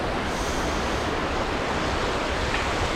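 A massive river near Iguazu Falls in Argentina rushes with a loud, steady broadband roar of water, constant and close with no pauses or voices.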